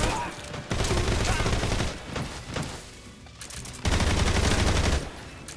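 Bursts of automatic gunfire crackle in Metal Gear Solid Delta, several loud volleys with short pauses between them, the last burst heavy and dense near the end.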